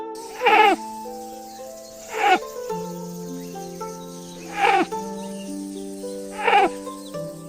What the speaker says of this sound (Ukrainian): Це панда. Вона мекотить майже як коза.